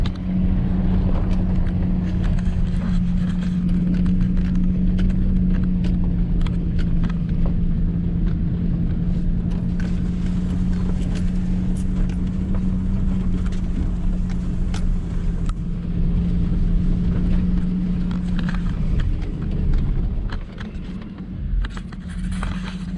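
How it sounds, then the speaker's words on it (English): An expedition vehicle drives along a forest trail on a deer hunting trip, its engine a steady, droning hum with rumbling, scraping road noise, close and continuous, easing off near the end. "this is what I call an expedition vehicle"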